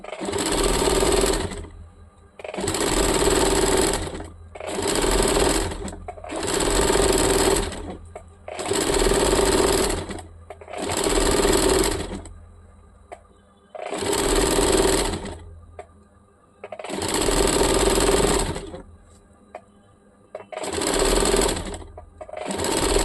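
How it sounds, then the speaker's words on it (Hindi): A sewing machine runs stitches around the round hem of a churidar in about ten loud, even bursts, each a second or two long, separated by short pauses. "इस प्रकार से पूरा गोलाई से हम लोग मशीन चला लेंगे।"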